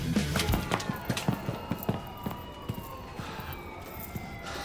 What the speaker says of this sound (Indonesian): tiba-tiba terdengar suara sirine yang membuat mereka semua harus kabur berserakan